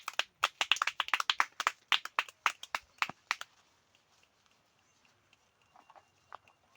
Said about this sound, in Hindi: ताली दो ताली दो ताली दे